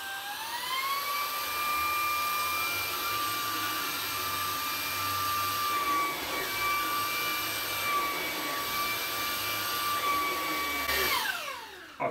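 A VAX Blade 2 Max cordless vacuum cleaner runs on full power, giving a steady loud high-pitched motor whine that holds throughout before winding down at the end.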